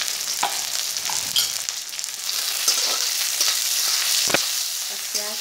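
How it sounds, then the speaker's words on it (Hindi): Chopped onions with cumin, ginger, red chilli and salt sizzle steadily in a pan while being stirred, with scraping clinks, a few sharper pops and no talking. "थोड़ा फ्राई कर लेंगे। प्याज लाल हो जानी चाहिए।"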